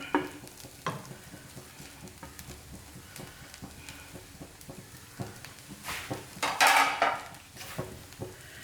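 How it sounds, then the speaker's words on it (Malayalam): A spoon stirs grated coconut into vegetable oats upma in a pan, making soft scraping and clinking against the metal over a faint sizzle, with a louder clatter of cutlery near the end. "നന്നായിട്ടൊന്ന് മിക്സ് ചെയ്ത് കൊടുക്കാം."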